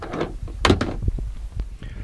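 A seat-belt-style tensioner latch clicks into place to secure a camper van door against opening from outside, giving a few short sharp clicks and thunks close by amid handling noise.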